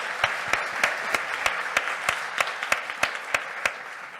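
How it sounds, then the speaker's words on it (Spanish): Applause for two children introduced on stage at a children's and adolescents' meeting with presidential candidates, heard as a steady run of distinct, fairly quiet claps at a regular pace from a small audience. "Un fuerte aplauso, por favor."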